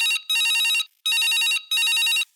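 A telephone rings loud and close in three long electronic trill bursts separated by short gaps, ringing for a farmer's call into a rural radio program, with no voices.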